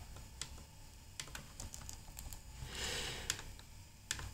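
Quiet clicks and taps on a computer keyboard during copying and pasting, scattered irregular keystrokes close by, with a soft rustle in the middle and no talking.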